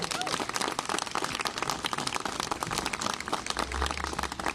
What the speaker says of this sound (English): Just give yourselves a big round of applause.